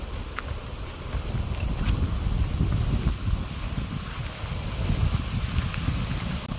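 Steady breeze at Daraitan river in Tanay, a continuous low rumble of wind buffeting the microphone, with faint clatter on top and no speech.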